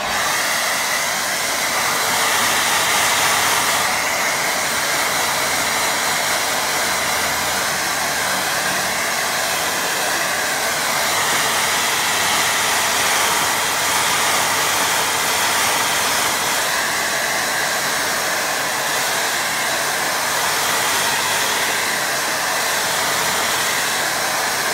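A hair dryer blows steadily on a watercolour painting, a continuous close, loud airy whoosh with a high whine that holds for the whole stretch with no talk.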